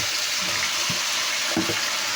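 Meat for pork adobo hits a hot pan and fries with a steady, dense hiss and sizzle, while a few low thuds and clatters of cookware break through the constant noise.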